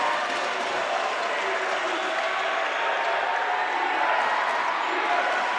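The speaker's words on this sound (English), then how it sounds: "As you hear the crowd giving it up for the Raiders, trying to get them amped" At a men's basketball championship game, a crowd cheers and applauds in a continuous, roaring wash of clapping and voices that holds steady throughout, with a commentator's voice faintly underneath.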